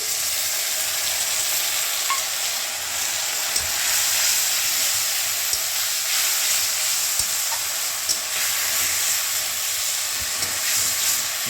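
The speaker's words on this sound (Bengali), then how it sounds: "এবারে দিয়ে দেবো আদা, রসুন আর কাঁচা লঙ্কা পেস্ট।" Ginger, garlic and green chili paste sizzles in a pan with browned onions, a steady loud frying hiss with occasional soft stirring clicks and no voices.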